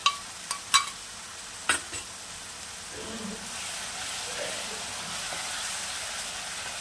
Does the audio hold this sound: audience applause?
no